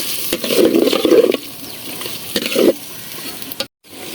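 Beef head meat sizzles as it is stir-fried with salt in a pan for a beef head and chana dal curry, with two loud bursts of frying and stirring separated by quieter crackle, close and without talk.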